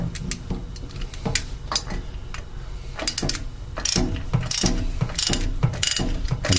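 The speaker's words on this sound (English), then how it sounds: "Turn the ratchet into the installation position." A ratchet tightens a new anode into a valve flange, giving a run of quick metallic clicks in uneven bursts, close and fairly loud, with no voices.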